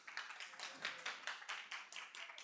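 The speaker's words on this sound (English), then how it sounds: "You can clap if you want" A small audience at a chemistry senior seminar gives brief, light clapping, a quiet patter of claps with a faint voice underneath.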